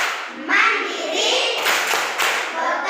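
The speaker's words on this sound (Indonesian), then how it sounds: "Membuat tepuk PPK, anak Elin silakan." Schoolchildren in an Indonesian fourth-grade classroom clap a rhythmic PPK chant together, with bursts of hand claps mixed with young voices and some thuds, fairly close and steady for a few seconds.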